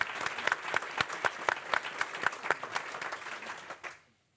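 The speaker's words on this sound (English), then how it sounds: "I'm going to just clap for you once again for the fantastic work" Clapping after a talk at a research conference on global lead exposure, a brisk, steady rhythm of claps lasting about four seconds before stopping abruptly into quiet.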